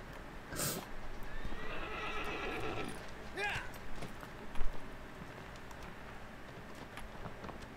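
A horse in Shadow of the Colossus whinnies sharply and then trots with clip-clopping hooves, close and clear, while a person talks over the game sounds.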